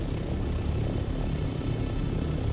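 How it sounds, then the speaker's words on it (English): Ornithopter in the game Dune: Awakening flying close by, a loud, steady droning roar of rotor and engine noise that fills the whole stretch without letup. "it's because the ornithopters are just too loud"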